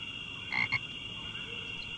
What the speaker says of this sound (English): Frog again.